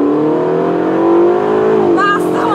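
A Ferrari California T accelerates hard at full throttle, its engine note rising steadily loud and close, then a voice breaks in near the end.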